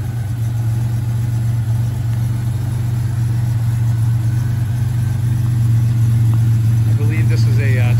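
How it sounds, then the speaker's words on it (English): A completely stock, all-original 1987 Buick Grand National GNX idles with a steady, loud low drone that holds unchanged throughout, with a few faint higher sounds near the end. "The vehicle is running."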